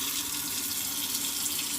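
Water runs steadily from a hotel kitchen faucet, a continuous close hiss of flow into a sink with no talking.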